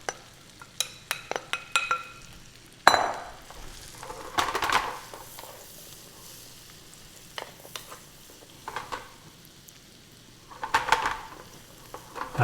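Celery, mushrooms, onions and carrots frying in butter in a pan, a soft steady sizzle broken by intermittent stirring scrapes and utensil clatter, close by with no talking.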